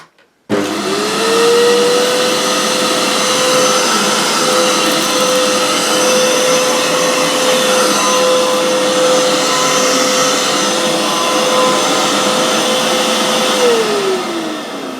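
A Hoover U3456 PurePower vacuum cleaner motor on boost mode spins up sharply and roars at high power, its steady whine holding for several seconds before beginning to wind down.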